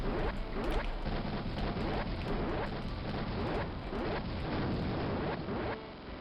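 Rapid, repeated enemy explosions in the desert sector of the shooter game Raptor: Call of the Shadows, a dense string of crackling bursts one after another at steady moderate loudness, fading slightly at the end.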